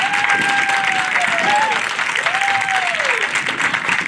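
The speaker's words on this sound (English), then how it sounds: "Big round of applause to all our staff who made 8 graduation ceremonies possible tonight" A graduation audience at a New Dorp High School ceremony applauds the staff with loud, sustained clapping and crowd noise filling the whole stretch, while an amplified voice rises above it.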